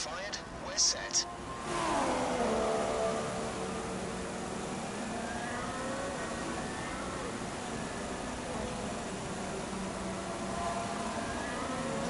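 A race car engine from the F1 2016 video game revs and holds a high droning whine, with gear-shift sweeps near the start and a steady roar afterward.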